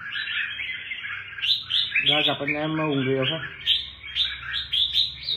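Caged songbirds chirp and trill at a bird-singing contest held at a home, quick repeated high notes throughout, close and lively, with someone talking over the middle part.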